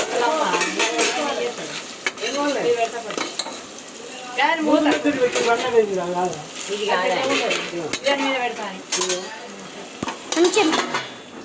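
A spoon stirs goat head curry in a pan, with steady scraping and clinking against the metal over a soft sizzle, close and continuous for several seconds.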